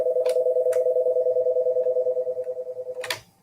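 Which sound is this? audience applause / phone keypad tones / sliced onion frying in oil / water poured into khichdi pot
phone keypad tones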